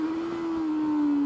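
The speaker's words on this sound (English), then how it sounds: "the whole bike kicks to life after it hits VTEC" A 2022 Honda CB400 Super Four 400cc motorcycle engine holds a steady, loud high-pitched rev after kicking into VTEC, a sustained buzzing drone close by.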